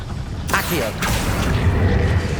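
The Accio summoning spell is cast in the video game Hogwarts Legacy, producing a magical whoosh with two bright bursts about half a second apart and a low rumble underneath.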